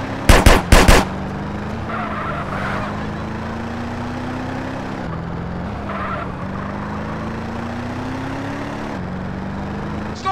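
Car-mounted drive-by gunfire in GTA San Andreas, a short loud burst of rapid shots at the start, followed by a steady engine drone with rising pitch as the vehicle speeds along.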